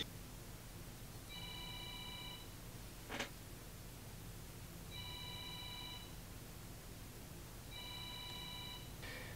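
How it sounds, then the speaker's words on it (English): A faint electronic phone ringtone chirps in three short bursts, evenly spaced, over a steady low background hum, with a brief rustle in between. "Sorry, telephone ringing there."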